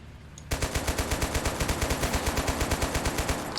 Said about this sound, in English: somebody in there firing at us